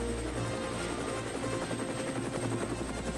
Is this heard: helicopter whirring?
yes